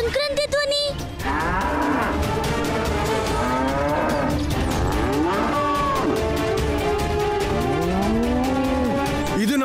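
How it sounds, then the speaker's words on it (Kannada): Several cows moo in loud, overlapping drawn-out calls that rise and fall in pitch, following one another almost continuously over a steady background din. "ಇದು ನಮ್ಮ ಹಸುಗಳೆಲ್ಲ ಕೂಗ್ತಿರೋ ಸದ್ದು."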